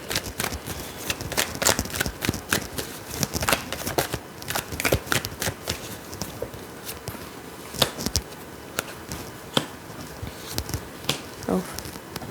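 Tarot cards are shuffled in rapid, crisp riffling bursts with scattered sharp flicks and taps, close and fairly quiet, and no voice speaking.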